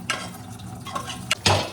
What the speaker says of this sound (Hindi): यहाँ ये बर्तन धो रही है, ये ठंड में, ठंडा पानी है ना